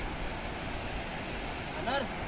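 River water flowing at Bhivapur dam, a steady rushing roar mixed with wind buffeting the microphone, with a brief voice near the end.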